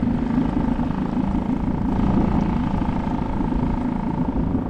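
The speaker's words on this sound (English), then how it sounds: "small outboard, you can idle it down, basically go trolling motor speed" A small outboard motor idles at trolling speed on a fishing kayak, a steady low droning hum with a faint rhythmic throb, close and constant with no talk.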